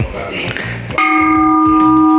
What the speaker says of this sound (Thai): เห็นไหมตีะระฆังได้ด้วยครับ มีเสียงด้วยนะครับผม